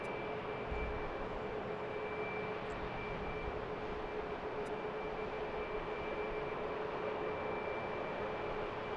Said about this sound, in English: This is Spirit coming in from Fort Lauderdale in A320.